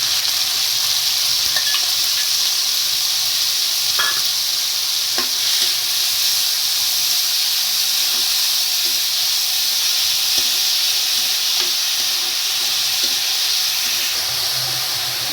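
Spring onions and cumin seeds sizzle in hot oil in a home kitchen pan, a steady loud hiss with occasional small crackles and pops, no talking.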